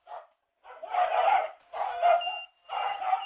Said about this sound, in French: Quand votre chien aboie